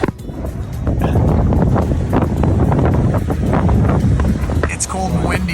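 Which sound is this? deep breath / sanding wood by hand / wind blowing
wind blowing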